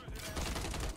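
Rapid bursts of automatic gunfire from the Call of Duty MW3 video game crackle densely and loudly for about a second, close and continuous.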